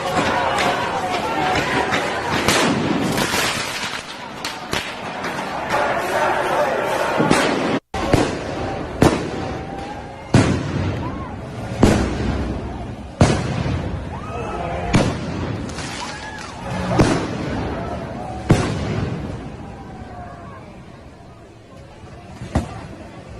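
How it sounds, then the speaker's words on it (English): Fireworks thrown at police officers during a Portland street protest, a long run of sharp pops and bangs near and far, some rapid bursts over crowd chatter and shouting. "video, since we seem to have all forgotten, of Antifa in Portland throwing fireworks at police officers"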